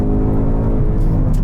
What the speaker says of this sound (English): You really have to rev this engine to get the most out of it.